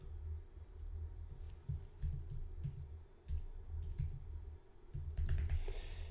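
Someone types text on a computer keyboard: quiet, irregular clusters of soft key clicks with short pauses between bursts, close by and with no talking.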